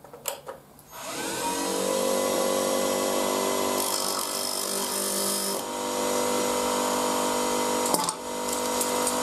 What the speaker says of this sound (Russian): И протачиваю опять таким самым образом, уже до линии.